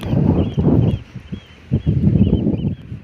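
Gusty wind roars against the microphone in heavy low-pitched bursts, dropping off briefly before surging again.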